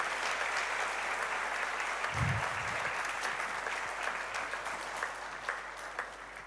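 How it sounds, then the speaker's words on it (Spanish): Church congregation applauding during a Spanish-language Christian service, a steady wash of clapping that holds throughout without a clear break, staying fairly even in level. "¿Por qué no le da un fuerte aplauso a nuestro Rey de Reyes,"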